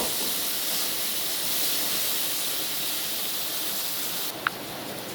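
Chopped onion and crushed garlic frying in hot oil in a pan for chicken curry, a steady, even sizzling hiss that holds level throughout, with a single brief clink near the end.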